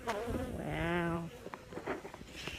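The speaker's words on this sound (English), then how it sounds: "That's a lot of bees." Dense buzzing of many honey bees at an opened backyard beehive box, a steady close drone that swells for about a second before breaking into scattered, fainter buzzes and movement.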